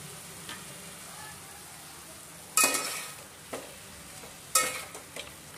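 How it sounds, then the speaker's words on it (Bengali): Chicken pieces cooking in a pan with coriander, cumin and red chilli powder for Lucknow biryani, with a low steady sizzle broken by two louder bursts of stirring and scraping. "এবার 10 থেকে 15 মিনিটের মতন চিকেনটা কষিয়ে নেব।"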